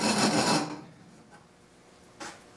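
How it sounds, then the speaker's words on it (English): A hand rasp files wood in one loud, close scraping stroke, then fades to quiet with a faint second scrape near the end. "The rasp are really awesome for removing a lot of material in a hurry on wood or aluminum."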